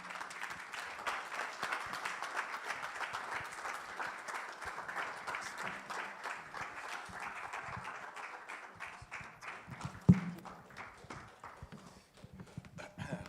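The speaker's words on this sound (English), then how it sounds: "Please give one more round of applause, please, for the speaker, Dr. Errol Lawson" Sustained audience applause at a church-hosted wealth summit, a steady dense patter of many hands that carries on for several seconds, thins toward the end, and is broken by one sharp louder bang near the close.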